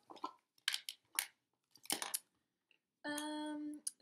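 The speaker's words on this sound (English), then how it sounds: "I'm sorry for all the clicking and all the noise. That's just my my polymer clay." Polymer clay being handled, with a series of sharp, close clicks and taps in irregular bursts, followed by a brief metallic ringing clink near the end.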